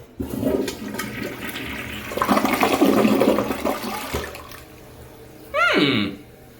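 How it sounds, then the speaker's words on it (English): A long toilet flush rushes and gurgles close by, swelling into a loud swirl of water, then draining away, and it ends with a short rising refill tone. "if you do a long flush"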